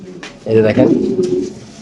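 A Danish pigeon coos in its cage with a deep, rolling call, loud and near, while someone speaks briefly just before it.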